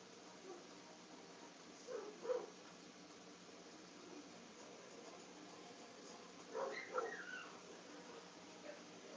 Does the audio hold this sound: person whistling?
no